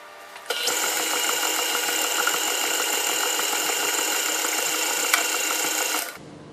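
An electric stand mixer runs steadily while mixing Belgian waffle batter, a continuous whirring motor hum that starts abruptly, holds an even pitch for about six seconds, then stops.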